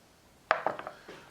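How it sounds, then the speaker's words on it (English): A knife slices a small cut into a raw Argentine red shrimp, giving a sharp tap followed by a few quick, soft cutting clicks close up, with no talking. "I'm going to make a small cut on this side."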